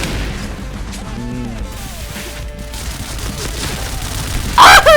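In the online shooter Point Blank, gunfire crackles under muffled game noise before a sudden loud explosion bursts at the very end.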